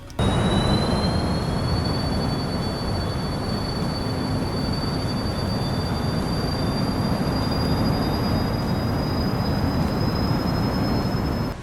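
Contrail Falcon 50 jet engines in the video game MSFS 2024 give a steady, loud whine with high rising tones over a constant low roar, running without a break.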